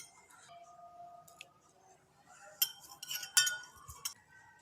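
A metal spoon clinks against a bowl a handful of times as milk is worked into suji and atta biscuit dough, the sharp taps close, light and clustered together in quick succession.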